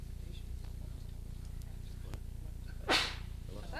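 A single sharp sneeze in a township council meeting room, brief and fairly loud against a low hum of room noise.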